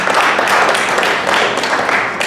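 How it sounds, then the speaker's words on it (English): An audience at a launch event breaks into applause, dense and sustained clapping filling the room at high volume for a couple of seconds. "So round of applause to"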